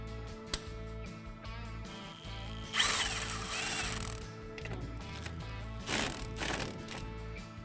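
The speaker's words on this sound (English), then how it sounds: "Once all the bolts and nuts are in place, tighten them all down." New 3/8-24 bolts and nuts being tightened on a Wilwood rear disc brake kit for a classic 1963-1987 Chevy C10 bring close bursts of a whirring power tool and clicking ratchet, with rattling metal between them.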